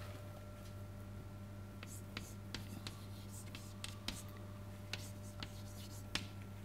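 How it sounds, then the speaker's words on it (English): Chalk or marker strokes on a board during a mathematics lecture, a series of short scratchy taps and scrapes spread irregularly over steady room hum. "Let me write it up."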